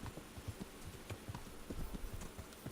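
In Kingdom Come: Deliverance, a horse's hooves clip-clop at a steady walking rhythm, faint and somewhat distant, with no voices over them.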